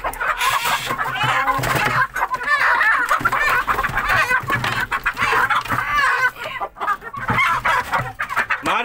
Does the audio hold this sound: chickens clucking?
yes